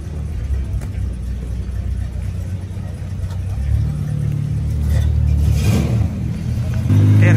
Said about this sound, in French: Ah, elle va démarrer, celle-ci. Ah bon, on va la regarder partir alors.